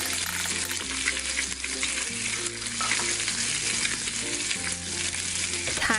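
A toy steak sizzles on a play stove during Play-Doh toy play, a continuous close frying hiss with steady tonal music running underneath.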